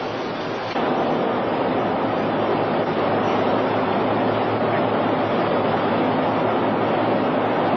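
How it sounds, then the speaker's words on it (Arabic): The royal train carrying the king rolls toward Tangier, a steady, loud broadband rumble and roar of rail travel that holds constant throughout. "يتوجه جلالة الملك على متن القطار الملكي نحو مدينة طنجة"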